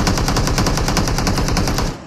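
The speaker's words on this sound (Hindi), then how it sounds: "अरे मैंने मारा उसको गोली" Rapid automatic gunfire in the BGMI battle royale game, a loud, dense burst of evenly spaced shots that continues without a break before cutting off.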